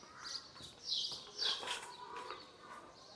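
Morning birds chirping outdoors, with a few bright, short calls rising in scattered bursts over a soft background; moderately faint, no talking.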